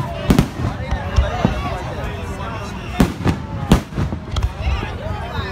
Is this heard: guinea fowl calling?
no